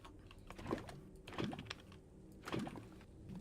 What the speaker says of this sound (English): No, I'm just typing to Ren.